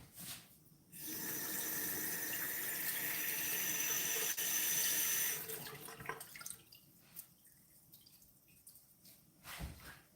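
Food is rinsed under a running kitchen faucet for a beef stew, a steady loud gush of about four seconds flowing alone, followed by scattered drips and light sink clatter.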